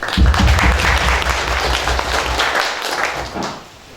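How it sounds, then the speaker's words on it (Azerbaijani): Audience applause at a commemorative gathering in Khanyurdu, Karabakh, honoring a battalion; broad, steady clapping from a crowd that holds for several seconds, then fades toward the end. "Ona görə onlara bir alqış gələr."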